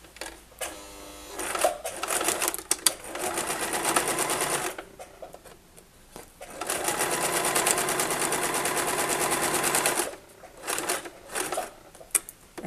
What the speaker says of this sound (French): je vais venir coudre sur toute la longueur jusque là-bas au bout et je laisse une ouverture pour retourner